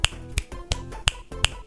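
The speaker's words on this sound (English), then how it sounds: "Snap your fingers." Five crisp finger snaps, close and dry, spaced roughly every third of a second with quiet gaps between them.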